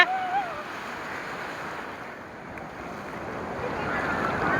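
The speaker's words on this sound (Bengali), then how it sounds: "তো গাইস, এখন কিন্তু ঢেউ আসছে।" Sea waves at Digha beach roll in as a continuous broad roar of surf, moderately loud, with wind buffeting the microphone.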